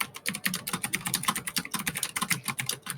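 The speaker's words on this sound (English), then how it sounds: "I hear furious typing." Rapid, continuous clicking of keys on a computer keyboard, fast and steady, heard up close with no talking.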